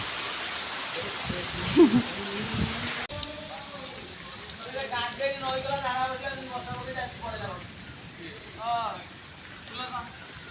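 Heavy rain pours steadily in a dense hiss, loudest for the first few seconds, then continues beneath people's voices.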